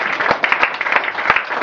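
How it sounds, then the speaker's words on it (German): Audience applause at a poetry slam, a brief burst of steady clapping from a crowd, fairly close and loud. "Der Applaus geht über zum DJ Ernesto"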